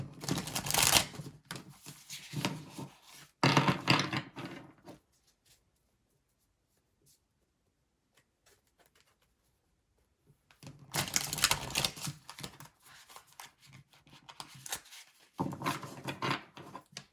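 Tarot cards being handled and shuffled, heard as close, soft papery riffles and slaps in several bursts separated by a long quiet gap.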